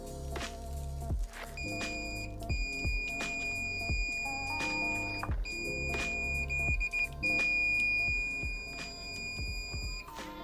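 The continuity tester on a WT540 multimeter, at maximum output, gives steady high electronic beeps that come in sustained tones and repeated short bursts over ten seconds, moderately loud against a busy background.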